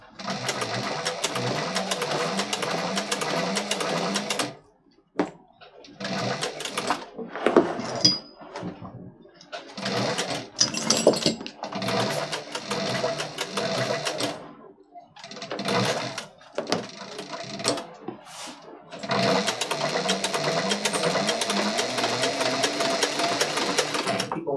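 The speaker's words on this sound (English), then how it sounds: "this is a big old heavy bag to sew around" A sewing machine runs in bursts, stitching around a big heavy backpack, its rapid mechanical whir starting and stopping between pauses and clunks of the fabric being handled; the machine is close and fairly loud.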